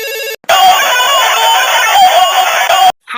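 In a Chhattisgarhi cartoon comedy, a phone loudly rings out while calling the doctor. The shrill, steady tone lasts a few seconds, then cuts off abruptly.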